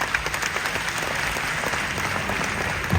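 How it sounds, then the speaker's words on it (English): A large hall audience at the Ghana National Association of Teachers delegates conference gives the President sustained, even applause, dense clapping throughout. "Round of applause for our President"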